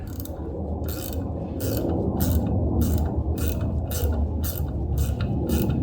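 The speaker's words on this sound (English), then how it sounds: "Just keep tightening that down until it can't go anymore." A ratchet wrench tightens a part during a 5.3 engine rebuild, clicking in quick regular bursts of about ten strokes, close and distinct over a low background hum, with nobody speaking.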